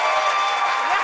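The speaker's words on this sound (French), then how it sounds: "Applaudissements pour elle." Audience applause at a talk-show style gathering in La Réunion, a steady dense wash of clapping holding evenly for about a second.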